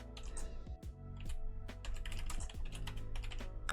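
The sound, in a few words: typing a homework question on a computer keyboard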